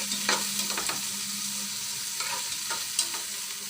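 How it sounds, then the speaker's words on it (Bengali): Bay leaves, garam masala and cardamom stirred and frying in hot oil for fish roe, a steady close sizzle broken by several sharp scrapes of the spoon against the pan. "দিয়ে এটাকে আমি নেড়ে ছেড়ে হালকা বাদামি করে ভেজে নেব"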